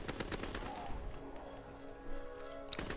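Bursts of gunfire in a WW2 multiplayer video game, a quick volley of shots at the start and another near the end, with quieter game ambience between them.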